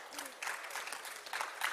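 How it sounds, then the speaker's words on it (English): Scattered audience applause at an international health conference, a few short bursts of clapping with faint voices underneath. "Cela mérite des applaudissements"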